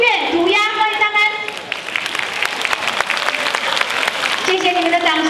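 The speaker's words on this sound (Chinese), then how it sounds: "所以让我们用热烈掌声欢迎玫瑰帮我们带来的音乐涂鸦" An audience claps warmly to welcome young performers onto a school stage, a thick wash of applause running the whole time while a voice speaks over it at the start and again near the end.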